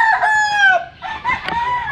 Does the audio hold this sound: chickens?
yes